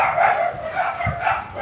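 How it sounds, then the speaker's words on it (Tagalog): Dogs bark at a person passing nearby, a few short, moderately loud barks and yips over outdoor background noise. "Yan talaga yung mga aso dito mga idol, mga active kasi pag nakakita ng tao mga idol, tahol ka agad."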